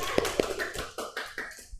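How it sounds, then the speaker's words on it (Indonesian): A classroom group gives a brief round of applause, a few loose, close claps and taps spread over under two seconds. "Tepuk tangan dulu dong"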